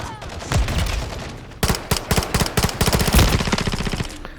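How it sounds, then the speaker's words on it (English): Rapid bursts of automatic gunfire in Call of Duty Modern Warfare 3, loud and dense, some long strings of shots and others clipped short, layered with other weapons firing in the background. "Just shooting everywhere"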